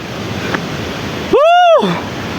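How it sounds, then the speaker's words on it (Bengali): A mountain waterfall gives off a steady, broad rushing roar of falling water. A short rising-and-falling whistle-like tone briefly cuts across it midway. "জলের আওয়াজ পাচ্ছি আমি"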